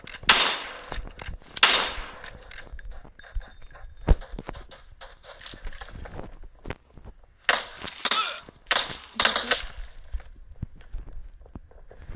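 Gunfire in the video game PUBG, with several sharp bursts of shots rising suddenly to loud peaks, separated by quieter stretches of footsteps and scuffling.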